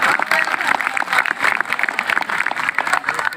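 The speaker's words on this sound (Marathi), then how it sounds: "त्या आवाजासाठी एकदा टाळ्या होऊन जाऊ द्या जोरदार." An audience at an NSTI Mumbai Azadi Ka Amrit Mahotsav event applauds, a dense burst of loud hand-clapping that stays steady throughout, with a voice faintly audible underneath.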